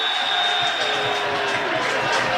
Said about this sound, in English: A few boos, I have to say